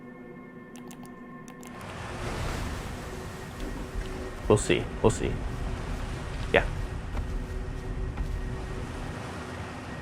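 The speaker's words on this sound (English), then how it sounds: "Oh, I was wondering what that noise was. It's the geyser." A geyser in the video game Outer Wilds erupts as a steady, rushing water hiss that builds and then holds, with people talking over it.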